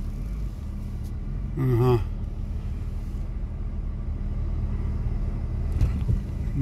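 A UAZ off-road vehicle on BTR axles drives over rough terrain, its engine a steady low rumble throughout, with a short voice and a few knocks and scrapes over it.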